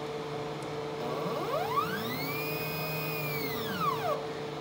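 A homemade bedrail CNC machine drives its router up and down with a steady whirring motor, its stepper whine rising in pitch, holding, then falling away as it stops, close and alone.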